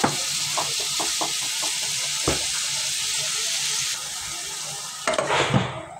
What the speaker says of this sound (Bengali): এভাবে কিছুক্ষণ নেড়ে নিতে হবে।